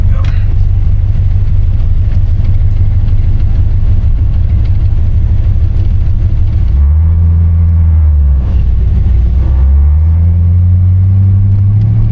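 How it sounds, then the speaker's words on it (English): Deep, loud exhaust drone heard from inside a 1981 Corvette with windows up, a steady low rumble that rises and falls in pitch as the engine revs. "you can kind of hear the drone from the exhaust a little bit more"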